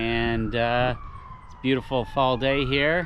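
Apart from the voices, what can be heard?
ambulance siren going by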